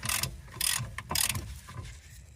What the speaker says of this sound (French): la clé à cliquet avant la clé dynamométrique